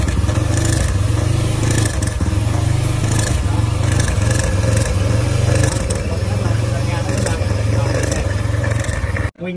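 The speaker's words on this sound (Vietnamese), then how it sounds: "Bây giờ em nổ máy đi." A Honda Dream Wave motorcycle engine with weak oil flow and a tendency to overheat idles steadily and loudly up close with a throbbing low rhythm, then cuts off abruptly at the end.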